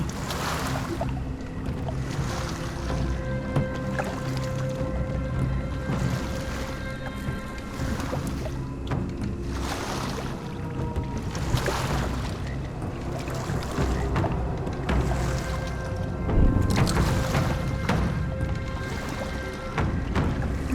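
Rhythmic oar strokes of a boat rowed through a bayou swamp in the video game Sherlock Holmes: The Awakened splash at a steady pace, each pull a soft whoosh, over a low ambient hum with faint musical tones.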